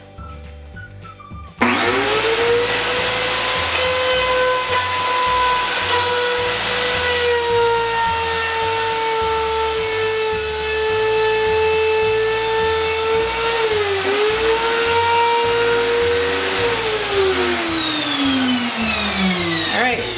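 A wood router plunges into a board against a fence and slides along a line to cut keyhole slots, giving a loud, steady, high-pitched whine that starts abruptly after a brief quiet moment and holds for the rest of the clip.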